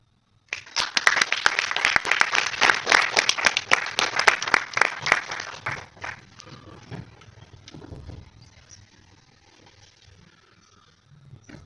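A burst of audience applause and cheering at a forensics symposium event, loud and dense at first, then thinning into scattered claps and fading away.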